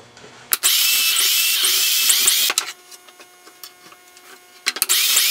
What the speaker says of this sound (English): The indexing pin repositions the jig to drill the next set of holes.